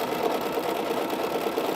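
A home sewing machine runs steadily at close range during a Christmas quilt session, its fast, even mechanical whir continuing without a break and with no voices.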